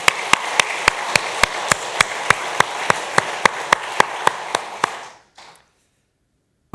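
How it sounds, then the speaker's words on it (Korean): A church congregation claps in unison during a Sunday worship service, sharp steady beats ringing through a reverberant hall for about five seconds before stopping abruptly into near silence. "하나님께 우리 박수 한번 올려드리겠습니다"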